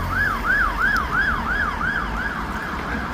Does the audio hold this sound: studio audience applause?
no